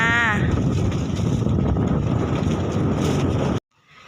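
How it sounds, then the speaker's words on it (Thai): Strong wind blows outdoors, roaring as a dense, loud, steady rumble against the microphone for several seconds before cutting off abruptly. "ลมน่ะอย่ามา"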